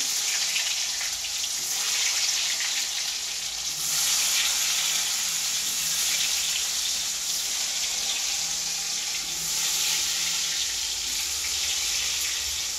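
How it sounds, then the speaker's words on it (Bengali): Sliced potatoes coated in salt and turmeric fry in hot oil, giving a steady close hiss and sizzle that swells and eases in long waves, with no talking. "এবার আমি সব থেকে প্রথমে আলু ভাজবো"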